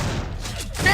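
Brief burst of gunfire in System Shock 2, with loud, close, low thuds and a rattling, echoing tail packed into about a second.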